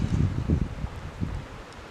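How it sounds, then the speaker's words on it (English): Wind gusts rustle across a hillside campsite in soft, low buffeting waves, fairly quiet and steady with no voices. "Still hear the wind in the distance coming from that direction."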